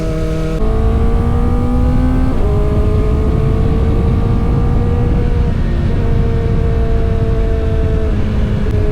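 A sport motorcycle accelerates along a wide straight road, its engine tone climbing steadily and dropping briefly at several gear shifts, loud and close throughout with no talking.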